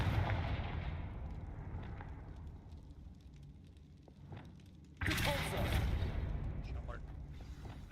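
Confringo fire spell blasts in the Hogwarts Legacy video game, a rumbling fiery burst that flares suddenly and loudly midway over crackling background, with a voice speaking in the scene.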